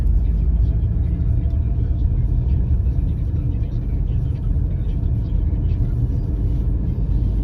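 A car driving on a road during a summer trip between Yevpatoria and Bakhchisaray in Crimea, with a loud, constant engine and road rumble from inside the cabin.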